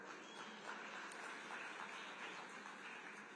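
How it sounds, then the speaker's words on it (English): Audience applause at a youth business forum, a steady wash of many hands clapping throughout, fairly faint and even with no clear break. "Another round of applause for them"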